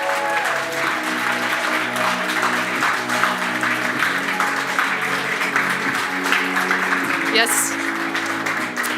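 A conference audience gives a sustained round of applause, a broad continuous patter of many hands over a droning musical tone, with a brief spoken word partway through.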